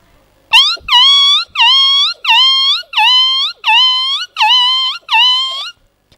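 A woman imitates a small puppy yelping in pain after being hit, eight sharp, high whining yelps in a steady rhythm, close and loud, with no talk.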